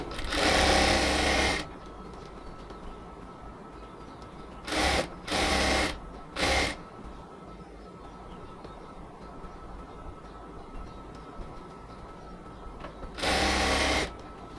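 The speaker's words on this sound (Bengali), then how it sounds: "ঘন সেলাই দিয়ে উপরের দিকে আস্তে আস্তে মিলাই কাপড়টাকে আমরা এবার সেলাই করে নেব" A sewing machine running dense stitches on a luxury cotton palazzo, one sustained burst of rapid rattling, a few short bursts in quick succession, then a final burst after a quiet pause.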